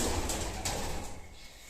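A satinette pigeon coos softly at close range, with a couple of brief wing flaps or rustles, while a low room hum persists.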